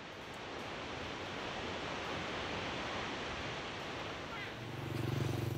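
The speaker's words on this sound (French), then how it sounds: "la cascade Tat Phan, la plus spectaculaire du pays" Tat Phan waterfall in Laos, plunging more than 120 metres, gives a steady, dense roar of falling water that holds an even level throughout, with a low hum rising briefly near the end.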